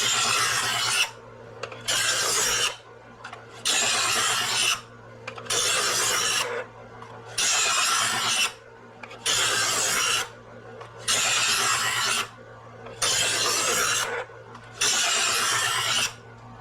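Knife blade drawn across a sharpener in long, even rasping strokes, about eight of them at a steady rhythm with short pauses between, close and loud, with no talk.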